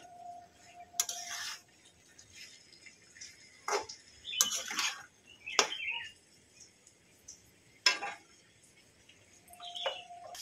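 Pointed gourd with egg and spices is stirred in a pan, giving sparse, separate scrapes and light metallic clinks from a utensil against the pan, close and fairly quiet, with near silence between strokes.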